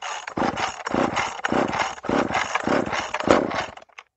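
A Poulan Micro XXV 25 chainsaw engine pops and sputters on a start attempt, giving a quick string of rough, evenly spaced bursts over about four seconds, close and fairly loud with no talking.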